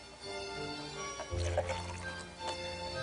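Two-part urethane casting liquid for a model kit is poured from one cup into another, giving a soft, brief liquid pour over a low steady hum.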